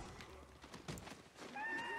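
A horse whinnies and its hooves clop in the video game Ghost of Tsushima, mixed with game ambience and a faint voice, with a sustained tonal sound rising near the end.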